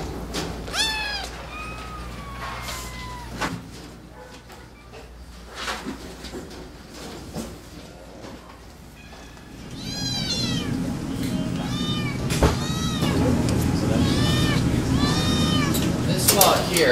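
Cats at an animal shelter meow repeatedly, several overlapping cries near and farther off, rising to a busy chorus with background noise while a person speaks.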